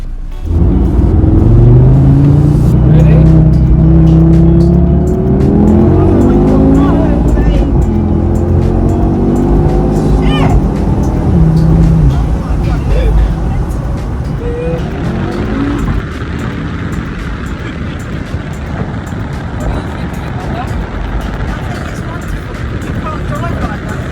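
Audi TT RS with Bimecc wheel spacers and AP carbon arch guards, its engine droning and shifting pitch while under way, loud and close throughout, with road rumble filling the background.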